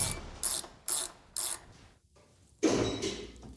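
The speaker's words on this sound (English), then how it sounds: "I got a nut on mine, we just gotta tighten it" A ratchet cranks a nut down on a bolted-in car strut during a project car build, four sharp clicking bursts in a steady rhythm, then a pause and a longer, louder ratcheting run, close and clear with no talking.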